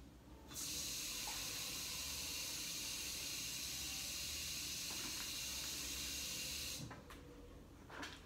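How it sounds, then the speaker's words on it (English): Steady rushing hiss of tap water pouring into a tub, starting abruptly and running for several seconds before cutting off. "So first step, I'm gonna fill it up with water."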